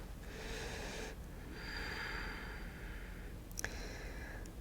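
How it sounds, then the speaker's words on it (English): Slow, soft breathing during a yoga forward fold, a long breathy exhale followed by a quieter inhale and a faint snort-like catch, close and quiet with no talk. "Breathing here."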